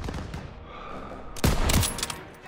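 Machine gun fire in Call of Duty WWII during a stronghold assault, scattered faint shots early, then a loud close burst of rapid fire around the middle amid battle noise.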